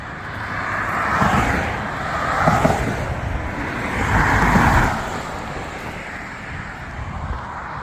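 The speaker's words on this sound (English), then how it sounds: "What traffic on a county road?" Cars pass by on a county road in rural Florida, several vehicles swelling loud and fading in turn, tyres and engines rushing close, with quieter road noise between passes.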